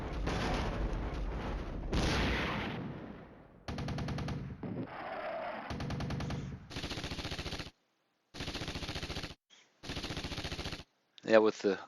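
Air defense guns firing at Kiowa helicopters in the Flashpoint Campaigns: Red Storm wargame, heard as bursts of rapid automatic fire separated by short silences, with a sharper crack at the end.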